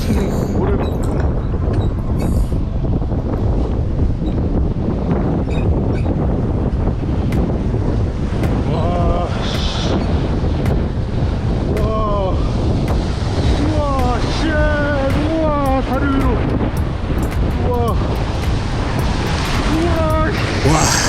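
Heavy wind buffeting the microphone over rough, crashing sea waves, a constant loud roar throughout, with a voice briefly heard over the noise.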